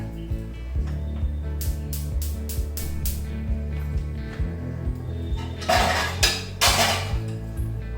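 Dal tipped into a metal pan while cooking sambar for a South Indian thali: several sharp metallic clinks, then a louder rushing pour near the end, close and with no talk.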